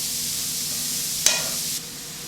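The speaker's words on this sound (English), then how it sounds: "just saute the onions" Onions saute in butter in a pan that earlier browned Salisbury steak, giving a steady close sizzle with one sharp clatter of a utensil midway before the hiss settles slightly quieter.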